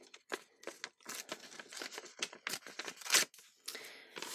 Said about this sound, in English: give you a little rip, Jason.